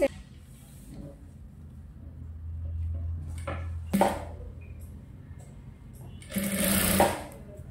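A sewing machine joining a blouse sleeve to the bodice, a low whirring stitch run with clicks and knocks of handling and a second burst near the end; a person talks in between.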